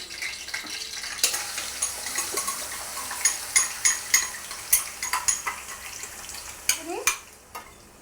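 A spoon stirs and scrapes a poppy seed and onion paste curry in a pan over a low flame, in repeated close strokes with a soft sizzle underneath and no talking.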